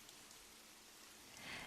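Steady rain falling, a soft even hiss of drops on surfaces, continuous and gentle throughout with a slight swell at the end, no voices.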